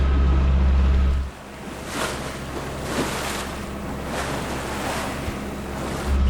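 Waves wash and slosh against a sailboat moving through thick fog off Greenland, with steady wind rumbling across the microphone, strongest at the start and end, and no voices.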